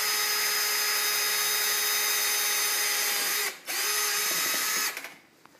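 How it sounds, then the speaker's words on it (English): An orthopaedic CingleBit drill bit spins through very hard bone, giving a loud, steady high-pitched whine that cuts out briefly near the middle, resumes, then winds down and stops at the end. "I'm going to reverse back out of there and show you that it's also a very powerful cutting tool"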